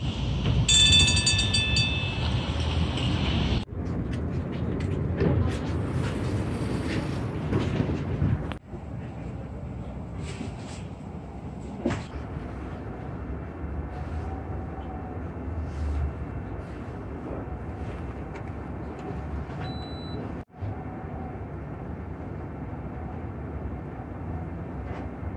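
Steady low rumble of a tram interior in motion in Olsztyn, Poland, with rattles and shifts in the drone and a few brief clunks, no talking.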